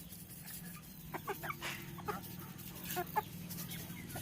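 A spotted black native country chicken clucks in soft, irregular bursts nearby, several quick calls rising out of a quiet rural background with no talking.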